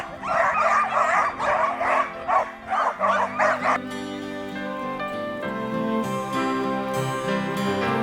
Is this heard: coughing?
no